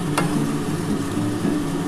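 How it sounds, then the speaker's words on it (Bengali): Maggi noodles with egg and a little turmeric sizzle in a pan as they are stirred, a dense, close, even hiss with a brief scrape early on. "এবার ভালো করে এটা নাড়াচাড়া করে নিই।"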